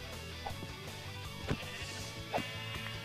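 Minecraft sheep giving two short bleats about a second apart, fairly faint over steady background game sound.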